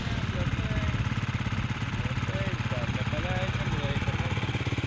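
A motorcycle engine idles close by with a steady, low, pulsing throb, while people talk over it.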